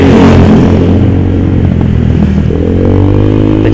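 A Honda Vario 150 scooter with an aftermarket ECU set up for backfire runs loud and close, its engine held at a steady rev with a faint rise in pitch partway through.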